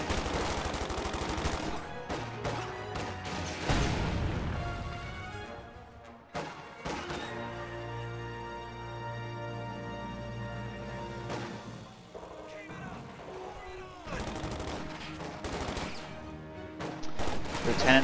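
Dushka heavy machine gun fire in a Company of Heroes match, bursts of rapid shots mixed with other battlefield gunfire and impacts, loud and dense throughout with game audio layered underneath.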